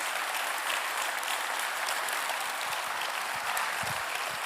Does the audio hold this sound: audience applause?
yes